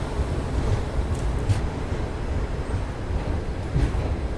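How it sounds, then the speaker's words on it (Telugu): A superfast express from Cherlapalli rolls into platform 10 at Chennai Central, its steady heavy rumble heard close from on board, with some wind buffeting the microphone and a few soft knocks along the way. "సో మన ట్రైన్ వచ్చేసి ప్లాట్ఫామ్ 10కి అయితే వచ్చింది."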